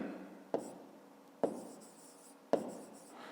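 A math solution is written down by hand, a pen or pencil on paper giving three short, crisp scratching strokes spaced about a second apart, close and alone in a quiet room.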